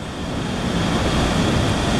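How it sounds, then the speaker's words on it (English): A waterfall on the way to an African festival gives a dense, steady broadband roar that swells slightly and stays loud throughout, with no talking. "Look at the waterfall."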